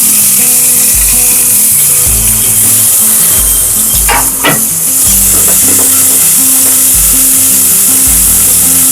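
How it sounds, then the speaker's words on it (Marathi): Chopped onion sizzles loudly with cashews in hot oil in a pan. A close, continuous frying hiss is broken by a few stirring scrapes, with a low rhythmic musical background underneath. "कांदा चांगला ब्राऊन होईपर्यंत आपल्याला परतून घ्यायचा आहे."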